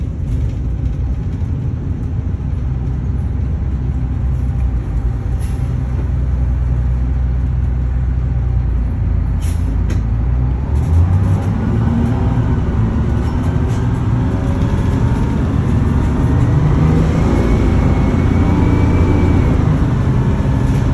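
A 1980s Crown bus with a Detroit 6-71 engine and Allison transmission driving under light throttle, a loud, steady low diesel rumble and drone that gradually rises in pitch as it accelerates smoothly, with no voices.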